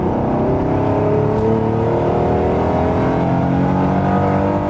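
Acura car with a Honda V6 engine revs high, its intake roaring loudly with rising and sustained engine tones close to the microphone, no voices over it.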